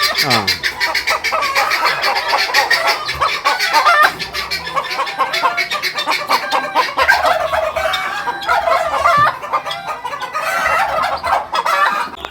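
Native country chickens on a backyard poultry farm cluck and squawk continuously, with occasional crowing in a busy flock, and a voice speaks over the din.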